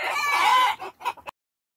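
A hen's drawn-out squawk followed by a few short, choppy clucks, close by, then silence.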